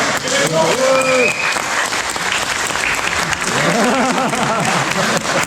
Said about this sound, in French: on va continuer les applaudir